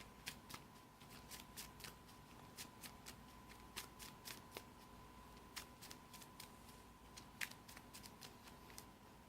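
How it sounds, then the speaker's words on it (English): Close, crisp riffling of playing cards being shuffled, with repeated quick flutters and taps over a faint steady hum. "And shuffle the other cards back into our deck."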